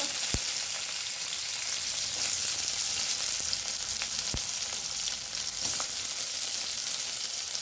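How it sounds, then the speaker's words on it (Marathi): Onion sizzles steadily in a hot pan, a dense continuous hiss with a few soft stirring clicks and scrapes, close and fairly loud, with no talking. "मग आपल्याला हा कांदा परतून घ्यायचा आहे."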